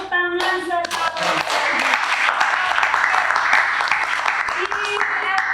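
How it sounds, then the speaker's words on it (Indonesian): A classroom of students breaks into a dense, lively round of hand clapping lasting several seconds, close and loud, after a teacher's voice briefly speaks at the start. "Super, tepuk tangan sekali"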